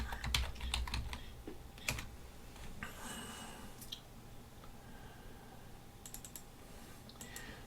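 Keys clatter on a computer keyboard while names are entered into a LibreOffice spreadsheet, coming in quick clustered bursts with short pauses, close and fairly soft over faint room hum.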